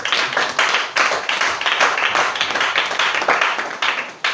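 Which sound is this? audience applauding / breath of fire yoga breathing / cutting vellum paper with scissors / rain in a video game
audience applauding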